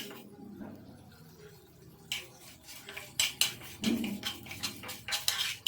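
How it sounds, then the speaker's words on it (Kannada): Fenugreek seeds, coriander seeds and dry red chillies are dry-fried in a pan for temple-style puliyogare. After a quiet start, a spoon scrapes and clinks against the pan in a run of short, close strokes. "ಇದನ್ನೆಲ್ಲ ಚೆನ್ನಾಗಿ ಫ್ರೈ ಮಾಡಬೇಕು, ಕಲರ್ ಚೇಂಜ್ ಆಗೋವರೆಗೂ."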